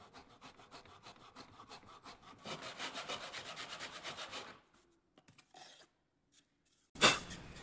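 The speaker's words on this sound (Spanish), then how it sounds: "Vamos a meter nuestro serrucho y empezar a hacer movimientos de esta manera para" Handsaw cutting a small wooden piece for a Christmas tree craft, steady rhythmic back-and-forth rasping strokes that speed up and grow louder midway, then stop, followed by a brief knock near the end.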